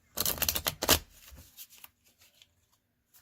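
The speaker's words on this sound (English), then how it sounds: "Do one more shuffle." Tarot deck being shuffled by hand, a close, quick papery riffle of cards for about a second that trails off into soft scattered taps.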